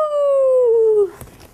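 A voice imitates a coyote howl, a single loud, sustained tone sliding slowly downward for about a second before breaking off, followed by faint room noise.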